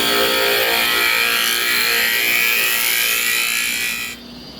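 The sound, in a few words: woodturning gouge cutting barnwood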